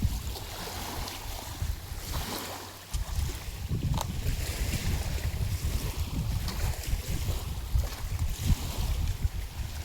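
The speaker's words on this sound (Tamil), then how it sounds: "பெருமலையில் அலை பயங்கரமாக இருக்குது" Rough sea waves wash and surge at a coastal fishing spot in Tamil Nadu, a continuous roar broken by heavier crashes and mixed with strong wind buffeting.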